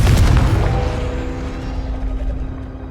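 A Confringo blasting spell from Hogwarts Legacy lands as one loud, deep explosion at the start, then fades into a long rumbling decay with a steady low hum.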